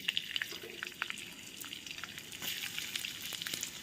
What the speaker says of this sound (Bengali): তেলটা তো গরমই আছে এবারে আমি এর মধ্যে এইগুলো আস্তে আস্তে দিয়ে দেবো